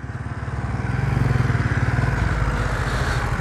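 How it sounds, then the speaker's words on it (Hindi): A tractor engine runs close by with a steady, loud rhythmic chugging throb that builds slightly and holds, heavy low thumping pulses under a broad mechanical roar, no talking. "ये बाबा जी ट्रैक्टर ले आए यहाँ पर"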